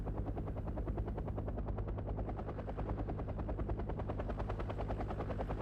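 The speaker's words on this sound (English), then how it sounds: "It's a helicopter." Helicopter in Wargame: Red Dragon gives a continuous, steady rotor chop, fast rhythmic thumping over a low engine drone, close and unbroken throughout with no talk.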